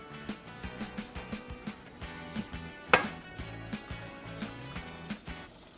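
Pork ribs and garden vegetables with plenty of soy sauce are stir-fried in a pan for a Lao dish, a spatula clanking and scraping in a quick, regular rhythm close by, with one sharper knock partway through.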